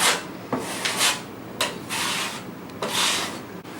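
A drywall knife spreads joint compound over a wall patch in long, close, rasping scrapes, several strokes in a row with brief pauses between them and no talking.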